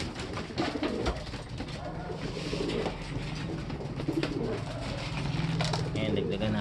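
Pigeons coo from a loft as homing birds return during a pooling race, their low soft calls repeating steadily under people talking nearby.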